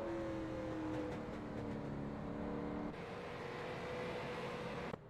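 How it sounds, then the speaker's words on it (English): Race car engine still running after a crash during a racing broadcast, a steady loud engine drone with harmonic tones held throughout, slight shifts partway, and a brief knock near the end. "Sounds like the car's still running because he got it refire"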